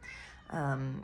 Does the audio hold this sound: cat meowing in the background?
yes